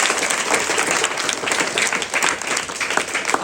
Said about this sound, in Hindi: एक बार जोरदार ताली बजाएंगे इनके लिए